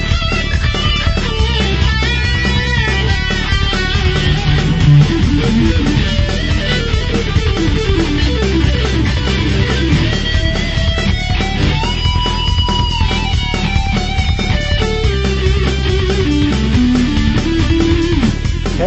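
An electric guitar runs through a Korg Pandora PX4D with delay, playing a dense, continuous line with repeating echoes, loud and steady for the whole stretch, no talking.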